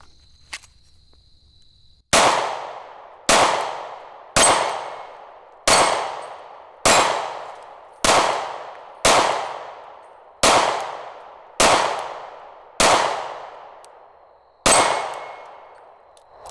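SIG P365 pistol shots: eleven sharp, loud reports spaced roughly one to two seconds apart, each decaying quickly, fired outdoors at close range after a brief quiet lead-in.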